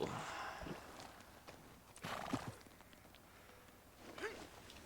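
A horse in Red Dead Redemption 2 whinnies and neighs in a few short bursts, with hooves clopping between them. The sounds are faint and somewhat distant.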